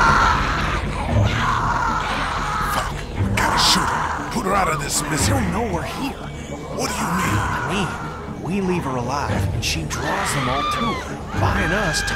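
Loud, anguished screaming and yelling from characters in The Walking Dead game, several voices shouting and wailing over each other close up in repeated bursts, with rough groans and frantic cries filling the scene.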